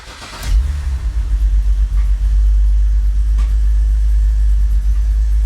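A 2004 BMW X3 engine cranks and catches, then settles into a loud, close idle with a deep rumble and an uneven, stumbling pulse from a misfire.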